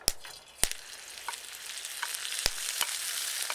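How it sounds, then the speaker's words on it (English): Mustard greens sautéing in olive oil with a pinch of salt, a steady soft sizzle broken by a few sharp crackles and stirring clicks, close and fairly quiet with no voices. "We sauté the mustard greens with olive oil and a pinch of salt."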